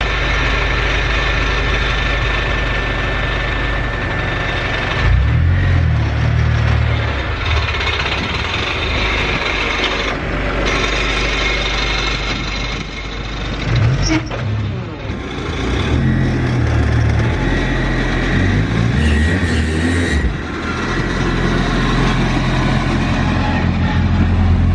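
A project car's engine runs loud and steady while being driven around the block, a deep continuous rumble with brief shifts in pitch as it accelerates and slows, and no talking.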